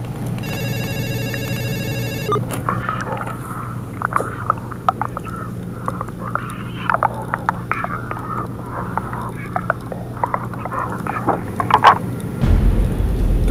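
A telephone rings with a steady repeating electronic ringtone, then gets answered on speakerphone, with muffled clicks and faint voices coming through it while people nearby murmur and whisper, until the call cuts off abruptly near the end.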